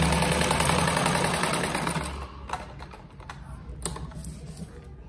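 A sewing machine runs steadily as small fabric scraps are stitched into a rug, a dense close whirring that eases off midway into softer intermittent clicks and taps.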